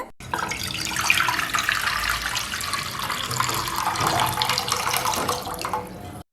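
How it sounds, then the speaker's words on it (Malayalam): Water pours steadily into a kadai for several seconds, a continuous splashing rush that starts abruptly and cuts off at the end. "ഈ ഒരു കടായിലേക്ക് വെള്ളം ഒഴിച്ചു കൊടുക്കുന്നുണ്ട്"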